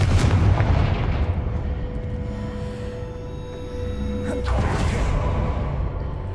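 Confringo blasting spell cast in Hogwarts Legacy, a loud booming magical burst with a sustained rumbling roar, a whooshing swell and a second surge near the end.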